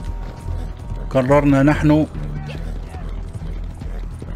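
Hooves clip-clop steadily from a horse in the Red Dead Redemption Online video game, a mechanical rhythmic plodding running throughout, while someone talks over it at length in the middle.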